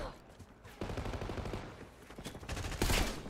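Bursts of game gunfire from Call of Duty Black Ops 6 multiplayer, with rapid shots crackling in clusters and growing louder toward the end.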